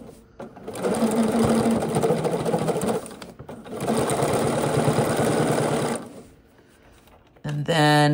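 A sewing machine stitches a seam on a pair of pants in two long, steady bursts of rapid mechanical chatter separated by brief pauses, close and loud, with a short spoken moment at the end.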